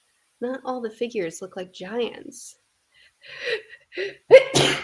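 A sharp sneeze bursts out near the end, close and loud, right after a stretch of a woman's speech and some softer breathy sounds.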